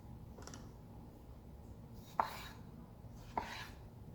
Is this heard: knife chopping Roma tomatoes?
yes